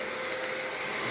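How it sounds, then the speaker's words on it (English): A brand new vacuum cleaner runs steadily on a couch, a loud continuous whining roar that holds without a break. "Brand new vacuum cleaner."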